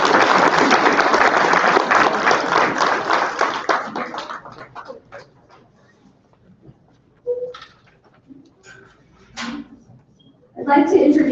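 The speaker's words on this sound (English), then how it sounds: "One more round of applause." Applause at a high school senior awards night, a burst of clapping that fades out after about four seconds, followed by scattered faint sounds and a voice starting to speak near the end.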